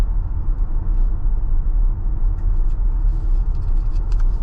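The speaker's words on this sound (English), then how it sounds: "Road noise here at 47 miles per hour feels okay, nothing impressive, but nothing bad either." Steady low road rumble inside a Tesla Model Y cruising at 47 mph, a constant broadband drone of tyre and road noise with no talk over it.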